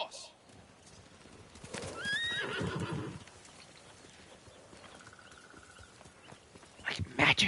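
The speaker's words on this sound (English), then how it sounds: "Horse!" A video game horse in Ghost of Tsushima whinnies loudly, then its hooves clip-clop as it gallops, with a final burst of noise at the end and no speech over it.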